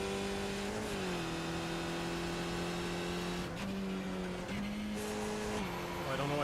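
Race car engine in the iRacing sim at Spa, a steady high-pitched drone with pitch shifts as gears change and revs rise and dip, continuous and loud throughout.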